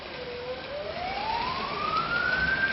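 A fire engine siren wails as it arrives at a fire between housing complexes, its pitch sweeping slowly upward over a few seconds, fairly clear against light background noise.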